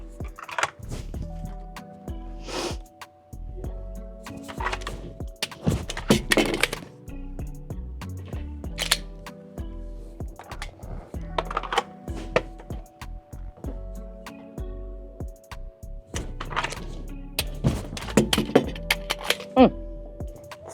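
Pistol magazines dropped and reloaded during indoor IDPA practice, with sharp clacks and metallic snaps at irregular intervals close by, under intermittent talk.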